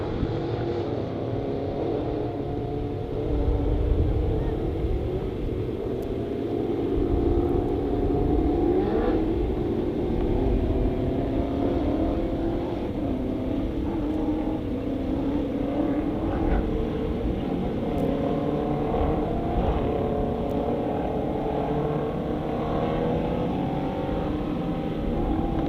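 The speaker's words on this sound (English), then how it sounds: "Sounds like the 8C car is coming back out here." Race cars in Sport Mod, Dwarf Car, Sport Compact and Stock Car classes lap Honor Speedway, giving a steady, fairly distant roar of engines that swells and fades slightly as the cars circle, with no talking.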